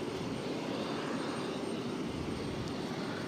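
An airliner in special livery rolls down a Boston runway for takeoff, its engines producing a loud, steady roar that holds constant throughout.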